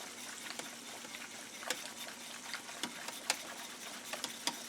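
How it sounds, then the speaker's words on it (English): Quiet, steady scraping and light clicking of a whisk working through gravy in a pan, with occasional sharper taps against the side. "So we're going to whisk that up."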